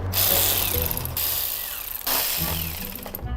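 A power tool, likely an impact wrench, runs in several loud bursts with short pauses while removing bolts from underneath a hybrid car with 160,000 km on it.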